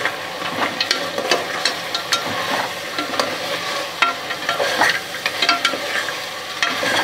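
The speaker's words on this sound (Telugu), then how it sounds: "సార్ తిప్పుకుంటున్నాను అల్లం వెల్లుల్లిపాయ అంతా చక్కగా వేగే వరకు" Ginger garlic paste frying in oil for a goat leg paya curry, loud close sizzling under steady scraping stirs, with frequent spatula clicks against the pan.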